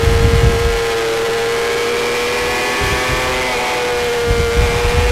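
250/300 production motorcycles race at speed through a fast section of a road circuit, a loud sustained engine whine holding steady pitch with rising revs near the start and end.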